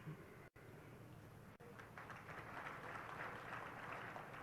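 Applause from an audience at a Hindi religious sermon by Tarun Sagar Ji Maharaj, a steady dense patter of clapping that builds slightly and continues without speech.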